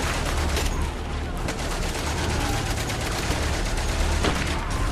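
Machine gun fire in the World War I video game Valiant Hearts: The Great War comes as dense, loud, continuous rattling bursts amid battlefield noise, close and unbroken for the whole stretch.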